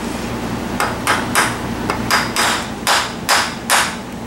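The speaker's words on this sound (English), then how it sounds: "we can use it with that plastic mallet there." A plastic mallet taps repeatedly on a Honda CB450 engine part during a rebuild, about eight sharp knocks in an uneven rhythm, close by over a low mechanical hum.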